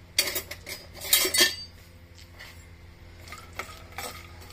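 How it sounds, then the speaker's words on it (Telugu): Dry fruits and dried coconut pieces being roasted in a pan, with a cluster of loud metallic scrapes and clinks from a spoon stirring early on, then quieter occasional scraping against a low steady background. "ఇప్పుడు ఇందులోనే డ్రై ఫ్రూట్స్, ఎండు కొబ్బరి అన్ని వేసి వేయించుకున్నాను"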